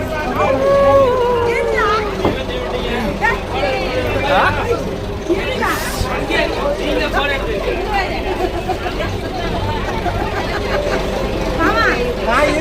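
Boat engine droning steadily during a passenger boat ride, a low continuous rumble beneath constant crowd chatter and nearby voices.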